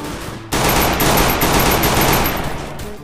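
Gunfire in the battle-royale video game Free Fire: a loud, dense burst of rapid automatic shots kicking in suddenly and rattling on continuously for several seconds before easing slightly.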